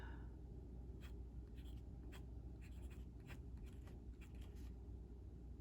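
A fountain pen nib scratches across paper in short irregular strokes, faint and close over a steady low background hum, with no talking.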